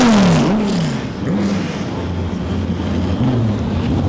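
Viper race car engine revving at a Dubai GP Revival paddock, a loud sustained engine roar with a falling-and-rising pitch as the car passes nearby, over wind noise.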